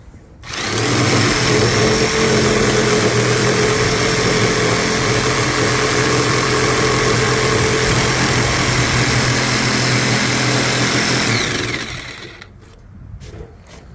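A Ryobi corded jigsaw with a blower sawing through a board, a loud steady motor whine with rapid blade chatter starting abruptly, running close and continuous for about eleven seconds, then stopping and winding down.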